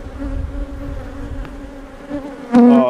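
Steady droning buzz of aggressive, defensive bees throughout, with a louder, closer burst of buzzing near the end.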